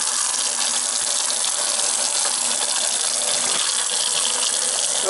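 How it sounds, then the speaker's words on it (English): Tap water pours steadily into a cooking pot for chicken borscht, a loud, continuous gushing hiss that stays even throughout with no voices. "And you want to fill the pot"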